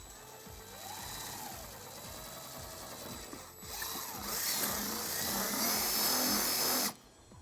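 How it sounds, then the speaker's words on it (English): A power drill with a 3/16 bit whines steadily and rises in pitch as it bites into the bumper of a 2018 GMC Terrain, then cuts off abruptly near the end. "using a 3/16 drill bit, we're going to drill our first hole"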